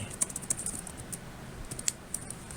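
Quick, light clicks of fingers typing on a computer keyboard, irregular bursts of keystrokes heard up close and fairly quiet with no talking.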